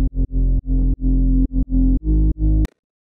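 Serum-made synth bass in the style of a track's bassline, processed with compressor, reverb and a low cut: a loud, buzzy, distorted bass riff of about eight punchy notes in a choppy rhythm, ending abruptly with a short click.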